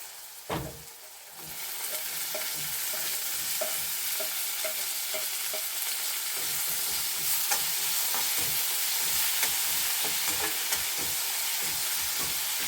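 Tomatoes dropped into a hot pan burst into a sudden loud hiss, then a steady sizzle continues under rhythmic, rapid spoon strokes scraping the pan, close and without speech.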